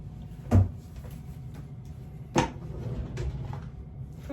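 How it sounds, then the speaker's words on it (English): A wooden drawer or cupboard in a home bangs shut twice, sharp close knocks roughly two seconds apart with a softer rattle after, over a low room hum. "I told you to close that drawer."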